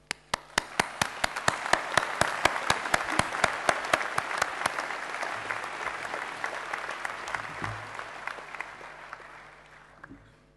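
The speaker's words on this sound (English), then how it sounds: "Give yourself a huge round of applause." An engineering faculty graduation crowd bursts into loud applause for the class of 2013, with dense clapping that peaks early and then gradually thins and fades out toward the end.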